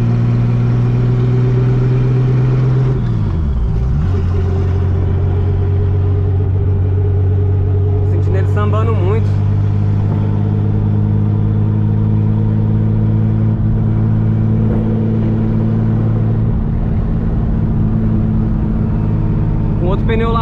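Chevrolet Opala turbo engine pulled hard at full throttle in a moving car, a loud droning rumble with rising and falling pitch through gear changes, steady and close throughout.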